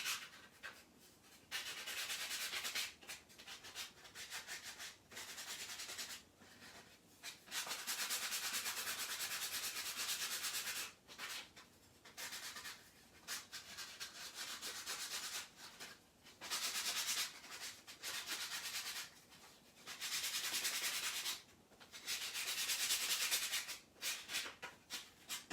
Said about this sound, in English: I just sanded the edge a little bit of this tag just to give it a little bit of worn look